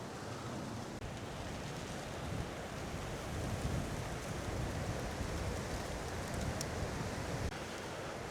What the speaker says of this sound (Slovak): Pomerne nám dosť fúka.